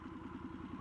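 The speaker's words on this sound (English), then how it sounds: "The pops on downshifting are nice on this exhaust." A 2022 Harley-Davidson Sportster S fitted with a TBR exhaust rumbles steadily at low revs, a close, even throbbing idle with a pulsing beat and no voices.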